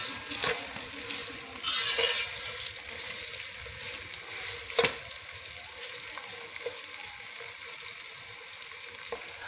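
Meat for degi qorma frying in a pan until fully brown, a steady close crackling sizzle with occasional louder bursts and the clatter of stirring utensils.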